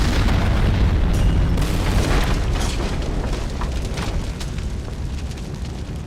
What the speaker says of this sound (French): une fois l'obus lancé, il pénétrait dans le bâtiment avant d'exploser.